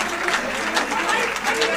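Crowd claps and chatters as the Rajasthan chief minister is welcomed at a Yamuna water project agreement event, a brief, dense burst of applause mixed with voices.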